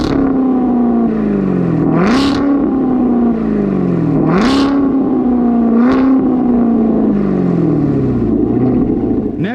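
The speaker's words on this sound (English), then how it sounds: "obviously I have the AWE exhaust system, which in my opinion sounds absolutely fantastic" A C7 Corvette ZR1 fitted with an AWE exhaust system revs loudly and close, with three or four sharp throttle blips that rise and fall over a steady deep idle rumble.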